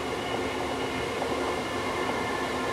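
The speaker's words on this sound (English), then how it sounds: "So that train is leaving Cambridge" A train leaving Cambridge passes near a small wooden bridge, heard as a steady, unbroken roar of rolling noise at moderate distance.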